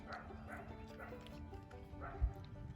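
A coyote yips in a field, repeated high barking cries at a moderate distance, with people talking softly alongside.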